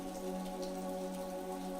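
Steady rain patters softly and continuously beneath a sustained mellow tonal bed, a calm cozy ambience outside a Venice coffee shop with no voices.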